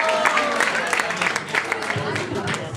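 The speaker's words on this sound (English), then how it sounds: "Let's give this group a big round of applause." An audience applauds a group after an evening program at a youth retreat in Madurai, a continuous crowd of clapping hands with some voices and cheers mixed in.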